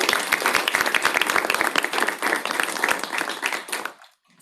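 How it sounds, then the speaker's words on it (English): Audience applause at a childcare and early education task force meeting, a burst of many hands clapping that holds steady then fades out to quiet after about four seconds. "let's give this group a big round of applause"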